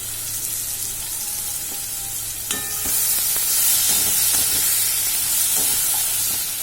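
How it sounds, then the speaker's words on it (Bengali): Shrimp frying in spice paste in a covered pan give a steady hiss that swells louder halfway through, punctuated by a few sharp utensil clinks against the metal. "মশলার সাথে চিংড়ি মাছটা আগে না একটু ঢাকা দিয়ে দিয়ে কষিয়ে নেব"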